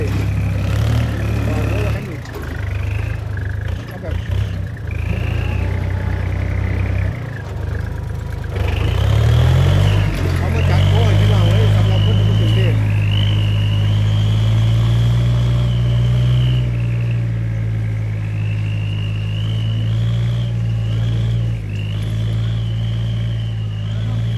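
Used Kubota or Yanmar tractor engine running nearby, a steady low diesel drone that rises and surges partway through, with people talking over it.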